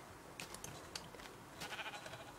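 Minecraft sheep bleat in a few short, faint calls over quiet game background, with no talking.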